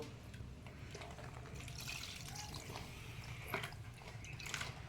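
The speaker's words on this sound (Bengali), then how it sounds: "এই তো জল দিচ্ছি" Water pours into a pot of simmering mutton red curry, a soft, continuous trickle with a few faint splashes, fairly quiet and close, heard alone without talking.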